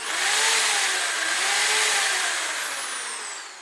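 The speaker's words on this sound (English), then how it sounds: "This is my another drill machine." A power drill whirs at high speed in a steady, loud electric whine that slowly fades at the end.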